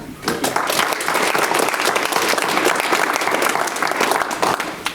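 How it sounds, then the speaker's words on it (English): A community-hall audience breaks into loud, dense, sustained applause for a history presenter, many hands clapping steadily and close for the full length with no gaps. "we got him 2 rounds of applause"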